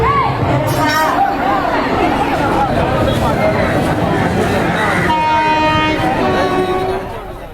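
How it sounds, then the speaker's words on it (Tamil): A train rumbles loudly nearby, with horn tones and a busy crowd murmuring around it; the noise thins out toward the end. "இதுதான் ட்ரெயின்."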